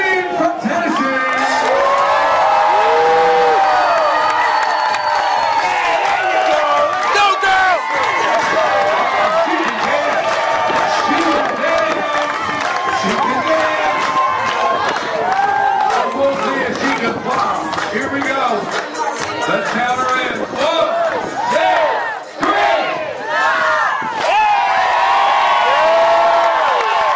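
A crowd aboard a cruise ship cheers and shouts at a belly flop contest, a continuous loud roar of whoops and chatter lasting throughout, with an announcer talking over it at times.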